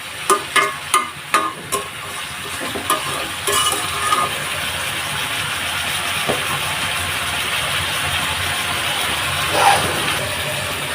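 Rohu fish and eggplant are stirred and turned in a pan, with a few sharp utensil knocks at the start followed by a continuous close sizzle and occasional scraping, with no talking.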